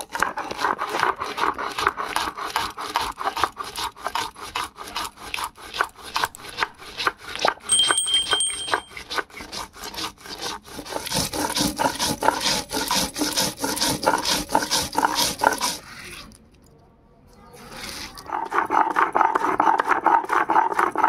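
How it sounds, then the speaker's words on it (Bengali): Garlic cloves, salt and spices ground with a little water into a fine paste on a grinding stone, a steady rhythmic rubbing and rasping stroke repeated close up, with a brief pause before resuming. "এবারে অল্প অল্প জল দিয়ে মশলাটা আমি ভালো করে মিহি করে বেটে নেব।"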